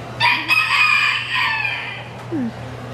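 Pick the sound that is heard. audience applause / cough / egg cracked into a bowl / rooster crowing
rooster crowing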